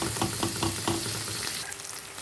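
Minced peppers, straight from the freezer, fry in a pan with a dense, steady sizzle heard up close, with light stirring clicks and no voices.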